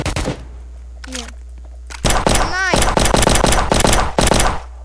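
An AK rifle fires in a prison video game: a brief shot, a pause with a short voice, then rapid loud bursts of automatic fire broken by short gaps, with a voice briefly heard between them.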